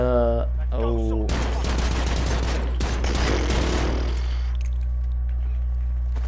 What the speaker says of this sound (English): I've never had akimbo guns in the Gulag before